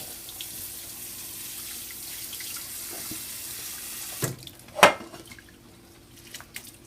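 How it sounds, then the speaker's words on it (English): Steady running cold tap water splashing into a sink while rice is rinsed, with a brief clatter and a sharp knock partway through, then quieter trickling and small drips. "I'm going to take it to the sink and drain it. I like to rinse this with a little bit of a cold water."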